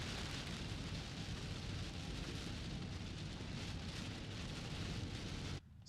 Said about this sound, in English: As soon as we left the park, it started raining